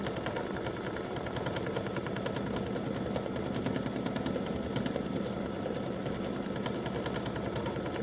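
An embroidery machine stitches a butterfly and hibiscus edge-to-edge quilting design, its needle running in a steady, fast, continuous mechanical chatter that stays loud and even throughout, with no talking.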